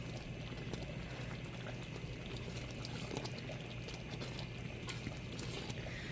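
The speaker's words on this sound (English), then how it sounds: "So basically it's on medium heat right now. And we're stirring it till it comes to a nice and thick." Halva of semolina cooked in water and ghee, stirred in a pot over medium heat, gives a steady, unbroken sizzling, bubbling hiss with faint scraping, fairly quiet and with no voices.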